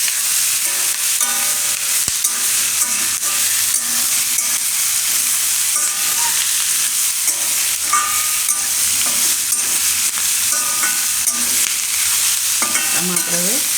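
Mushrooms tossed into a pan of onion and capsicum for a Gujarati mushroom shaak fry with a steady, dense sizzle, broken by repeated scraping and clattering as the mixture is stirred close up.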